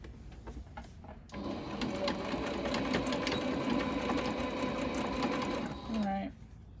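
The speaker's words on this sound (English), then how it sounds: "I'm going to back stitch just a little bit to lock it in." A sewing machine back stitching bias tape for a hanger on a quilted Christmas stocking, a steady close whirring run of about five seconds between quiet moments, ending with a brief squeak.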